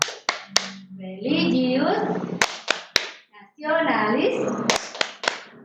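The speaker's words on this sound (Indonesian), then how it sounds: "sekarang kita lanjutkan dengan tepuk PPK" Children's voices chant school values in a rhythmic tepuk PPK classroom clapping routine, with sharp claps punctuating the chanting at intervals between and after the spoken lines.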